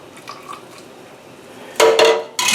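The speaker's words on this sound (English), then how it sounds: "Add the lids and rings." Metal lids and screw rings go onto glass canning jars, with two sharp clinking, scraping bursts near the end after a quiet stretch.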